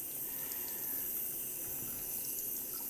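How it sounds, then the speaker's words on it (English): Hands washed with soap under a running tap, a steady close hiss of flowing water with faint splashing and no pauses, with no talk. "I'll wash that with bracket soap because I was silly and forgot to wash my hands."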